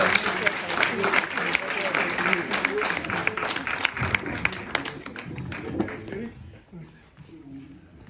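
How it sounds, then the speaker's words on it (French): A crowd at a political party celebration in France claps and cheers in dense, sustained applause that gradually thins and fades toward the end, with voices mixed in. "On continue de l'acclamer s'il vous plaît."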